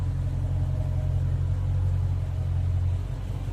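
Widebody 2019 Dodge Challenger R/T Scat Pack with an 8-speed transmission, driving at night; a steady, deep engine rumble heard from inside the car, constant and fairly loud, easing off slightly near the end.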